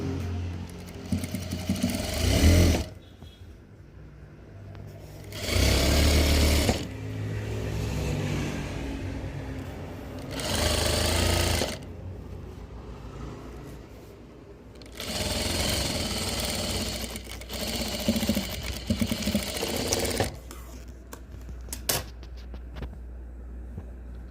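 A sewing machine stitches the folded bottom hem of a V-neck kurti in four loud, steady bursts of whirring, each lasting a few seconds and separated by quiet pauses.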